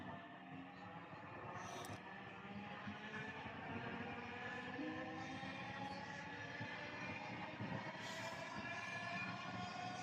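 A metro train bound for Motijheel moves along the track with a faint, steady rumble and rising whine of its motors, and a few brief higher tones stand out above it.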